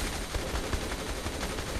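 Turret gunfire from SWAT units in Saints Row 3 rattles in a dense, continuous stream of rapid shots, loud and steady, with no talking over it.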